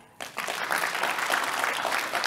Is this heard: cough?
no